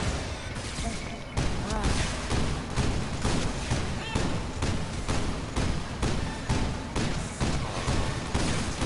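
Shotgun blasts ring out in a video game match, a rapid series of sharp, loud reports fired in quick succession, one after another, under light game noise.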